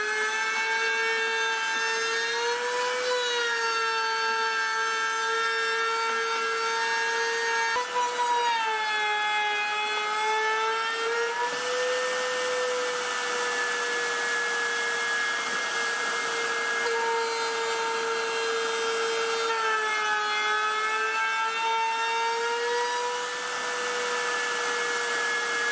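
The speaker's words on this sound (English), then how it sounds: "now I'm just gonna run these through the router table and put an edge on them" A router table cutting an edge profile on wooden trim pieces, a steady high motor whine that dips briefly in pitch as each piece is fed through, running continuously.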